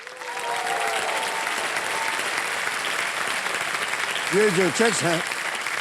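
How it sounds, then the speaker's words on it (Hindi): Warm studio audience applause on a game show set, a steady crowd clapping throughout, while someone talks over it and a few brief tonal sounds come in near the end. "ताली बजती रहे इन लोगों के लिए।"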